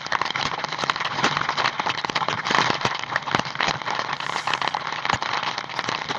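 Heavy storm rain pours down onto a road during a drive home through flooded streets, a dense continuous hiss dotted with sharp drop impacts and crackles, loud and steady throughout.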